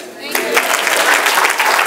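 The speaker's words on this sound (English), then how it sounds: "Let's give Attorney Mawuli Davis another big round of applause." Loud, dense audience applause at a public talk by an attorney, a steady close burst of many hands clapping that swells right after a short lull and holds without talk.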